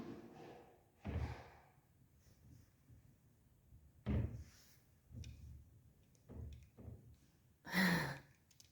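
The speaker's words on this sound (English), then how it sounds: "All this knocking and banging" A handful of dull knocks and bangs on a hillside at Napton come at irregular intervals in a quiet setting, some sharper and louder than others, with no talking.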